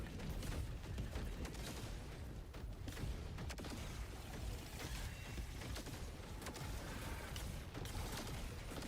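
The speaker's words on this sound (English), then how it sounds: "Cool thing about these cannons is like you can kind of shoot in front of you and then walk through the fire" Cannons firing in the game Helldivers 2, a dense, continuous barrage of booming blasts and crackling fire with mechanical clatter, loud and unbroken throughout with no talk.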